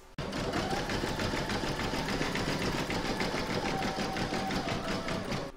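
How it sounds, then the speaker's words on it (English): An embroidery machine stitches a zigzag round over the raw edges of an in-the-hoop mandala placemat. The rapid, steady mechanical whirr runs loud and close, unbroken and alone throughout. "You're going to put your hoop back in your machine and stitch round number seven"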